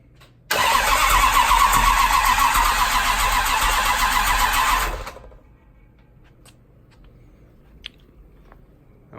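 A Dodge Charger engine cranks hard, flooded and trying to catch, a loud continuous whirring churn lasting about four seconds that then stops without firing, leaving quiet room noise and a few faint clicks.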